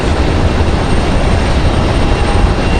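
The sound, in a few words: Airbus A220 airliner engines at Raleigh Durham airport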